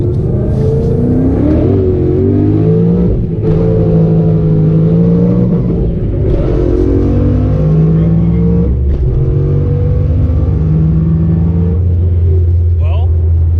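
An 830+ horsepower Ford Mustang accelerates hard, its loud engine roaring throughout, climbing in pitch with each gear and dropping back at every shift.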